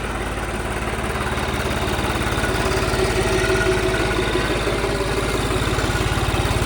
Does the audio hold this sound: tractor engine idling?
yes